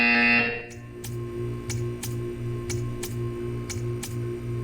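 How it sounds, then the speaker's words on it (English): A buzzer in the video game Portal 2 sounds in a regular series of short, sharp electronic bursts about every half second, loud and clear over a low steady hum, after a brief tone at the start. "You will hear a buzzer."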